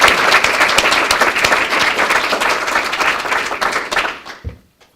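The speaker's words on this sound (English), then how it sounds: "Let's give them one more round of applause." A graduation ceremony crowd gives loud, sustained applause for about four seconds, then the clapping fades out to near silence.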